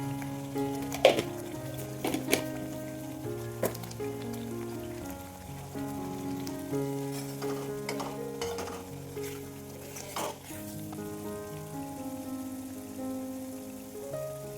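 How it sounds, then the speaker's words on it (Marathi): Ground masala paste sizzles while frying in oil for a drumstick pod curry, with a steady crackle and occasional stirring scrapes under background music. "छान आपलं हे वाटण तेलामध्ये परतून झालेलं आहे"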